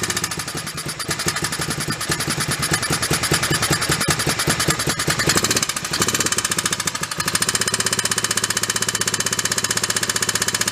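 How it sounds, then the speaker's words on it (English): A 1986 Honda FourTrax ATV engine idles loudly and close up, its steady rapid putter overlaid by a persistent ticking valve clatter that runs evenly throughout. "Definitely sounds like a valve though. It doesn't sound like a timing chain noise"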